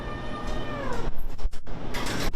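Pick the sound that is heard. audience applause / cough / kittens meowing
kittens meowing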